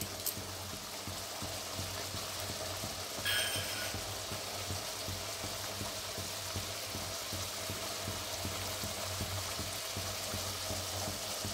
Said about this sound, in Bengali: এবার আমি কাশ্মীরি মির্চটা দিয়ে দিচ্ছি।